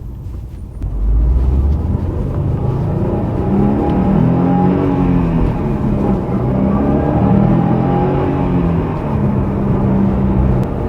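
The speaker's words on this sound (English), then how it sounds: "I like a good exhaust, but sometimes I don't like most of the noise coming from the rear" A Subaru WRX STI with an aftermarket exhaust drones and revs steadily, a loud, close rumbling engine note that rises and falls slightly across the whole stretch without pause.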